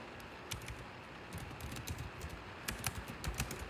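Typing on a computer keyboard: a fairly quiet run of key clicks in irregular bursts, alone with no talk.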